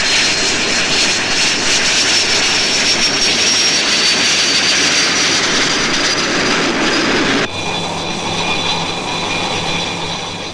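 A Buccaneer S.1 jet lands on a carrier deck and catches the arrester wire, its loud, steady engine roar filling the scene before an abrupt drop in level near the end as the aircraft is halted.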